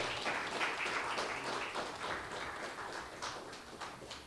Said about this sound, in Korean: 큰 박수로 감사드리겠습니다